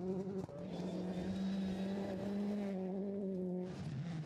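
A Toyota Corolla hatchback rally car on playback, its engine keeping up a steady high harmonic whine as it races past, fairly quiet and with no voices.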